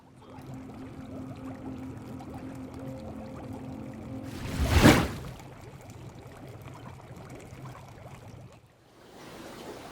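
Aquarium substrate poured into an empty 20-gallon glass tank, a single loud rushing pour of about a second in the middle, with quieter background before and after.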